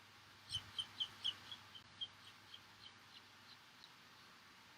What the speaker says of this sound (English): Like a nature show with all these bird noises.